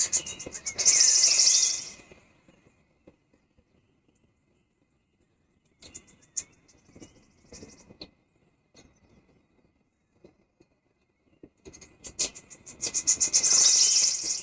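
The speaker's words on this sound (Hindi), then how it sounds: "कहीं कहीं चिड़ियों का चहकना," Birds chirp and twitter at dawn along a path on the way to Shikharji, with insects buzzing. Dense high chirping fills the opening and closing seconds, with sparse faint calls and rustles in the quiet stretch between.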